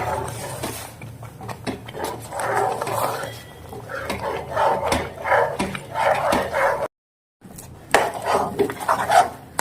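Snack ingredients tossed and mixed together in a bowl for a flour-free Gujarati snack, giving steady scraping and clinking of a spoon against the bowl, fairly close, with one short silent break.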